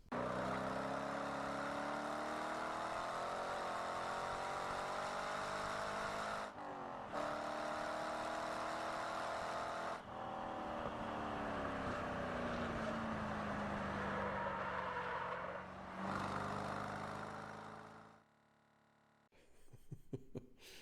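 A race car laps Barber Motorsports Park, its engine loud and close as it climbs and falls through the gears with brief lifts between straights, then drops to near silence and picks up again at the end.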